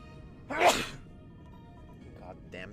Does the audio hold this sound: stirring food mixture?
no